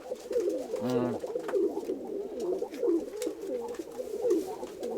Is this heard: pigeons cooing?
yes